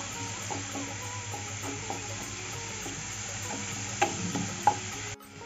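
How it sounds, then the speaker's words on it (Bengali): Chili powder and other spices are sautéed in a pan, with a quiet, steady sizzle and light scraping stirs. Two sharper knocks come near the end before the sound cuts off. "এখন মশলাটা ভালো করে কষিয়ে নেব।"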